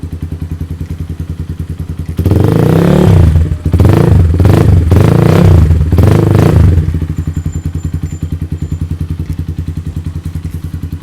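A 2018 GPX Demon GR150 sport motorcycle idles with a steady putter, then is revved hard in several loud bursts lasting a few seconds before dropping back to a close, steady idle.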